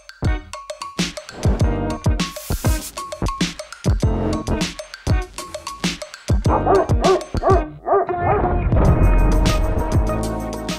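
A dog barks and yips in repeated sharp bursts, caught on a surveillance camera, with whimpering sounds mixed in and louder, busier noise building toward the end.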